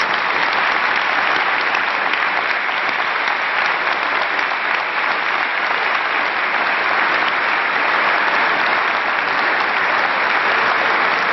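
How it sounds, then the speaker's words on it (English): A high school graduation audience applauds the returning class of 1967, a dense, sustained round of clapping from a large crowd that stays even and loud throughout. "please rise and join me in recognizing the thanking returning graduates of the class of 1967 with a round of applause"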